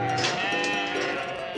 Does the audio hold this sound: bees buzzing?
no